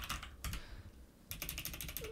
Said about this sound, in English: If I could type print result